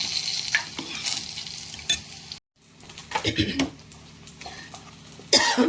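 Oil sizzles and crackles in a pan as a spice tempering fries for cucumber dal, while a utensil scrapes and clinks, with a cough and some background voices in between.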